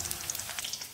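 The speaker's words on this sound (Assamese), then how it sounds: "এখিলা তেজপাত দিছো ভালকৈ লৰাই দিছো খুব ধুনীয়াকৈ ভাজি গৈছে" Spices and a bay leaf frying in hot oil while being stirred, a close, steady crackling sizzle with small sharp pops throughout.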